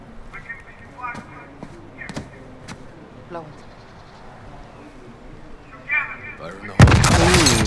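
A loud explosion blasts in a Call of Duty Modern Warfare campaign mission. It is a sudden close, roaring burst near the end, after quieter gunfire, clanks and radio-style game chatter.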